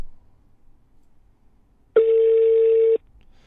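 A single phone call tone sounds on the line while waiting for someone to pick up, a loud steady beep lasting about one second after near-silence.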